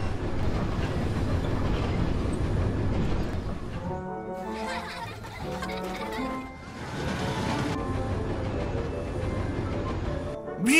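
An animated Class 40 diesel locomotive running along a railway, a steady rumbling rail roll with rhythmic clickety-clack and a low engine drone, continuous and fairly loud, with a short break in the middle.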